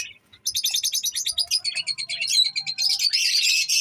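Lovebird chicks, including a red-eyed creamino chick, chirp in rapid high-pitched bursts close by, the cheeping running almost continuously and growing denser and louder toward the end.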